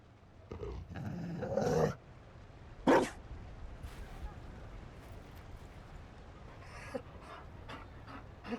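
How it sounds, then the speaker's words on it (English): A Mabari war dog panting in the Dragon Age Inquisition video game, a couple of short bursts of breathy panting and a sharp bark-like hit amid quiet game ambience, with low voice sounds nearby. "You found a dog. They don't breed Mabari in Olay."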